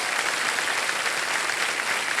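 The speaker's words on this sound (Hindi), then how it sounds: "तालियां बज जाए इनके लिए" A television quiz show studio audience applauds a contestant, a steady, even wash of many hands clapping together at moderate loudness without pause.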